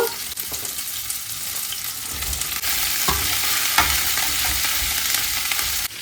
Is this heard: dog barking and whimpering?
no